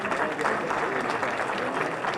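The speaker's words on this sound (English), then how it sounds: "So I want everybody to give a round of applause to Lenny." Party audience giving a round of applause, steady dense clapping from a crowd at moderate volume, continuous for a couple of seconds.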